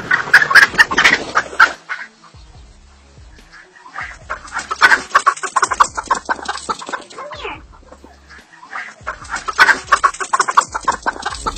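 Chickens cluck and squawk in agitated bursts as a fox chases them, with three loud flurries of calls separated by quieter stretches.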